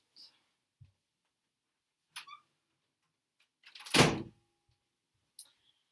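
An indoor door is shut with one solid thud. Faint scattered knocks and rustles come before and after, against an otherwise quiet room.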